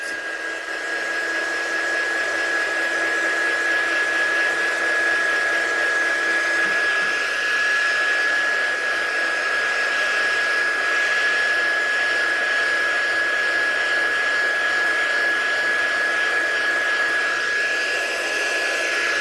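Heat gun blowing hot air to heat-set craft paint, a steady close whooshing roar with a constant high whine, running unbroken for the whole stretch without any talk.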